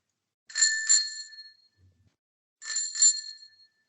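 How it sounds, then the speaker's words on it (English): Two crisp rings of a bicycle bell, each a quick double ding with a short metallic ringing tail, separated by about a second of silence. "Hashtag ring that bell."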